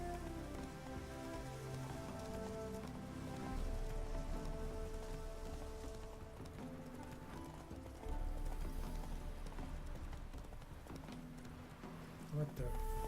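Horse hooves clip-clop steadily at a trot in The Witcher 3, loud and continuous over game music with patter like rain, and a brief whinny may surface.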